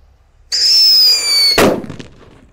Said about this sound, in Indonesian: yang kita nyalakan di sini ada mercon black buster yang bledosnya banter, ini cocok untuk butelan kertas. Kita nyalakan di dalam tanah